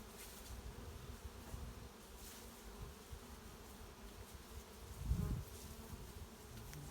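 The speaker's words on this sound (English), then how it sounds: "worker bees that go out and collect the nectar and pollen" Honey bees buzzing around an open hive, a steady close drone of many workers with one louder pass near the end, no talk.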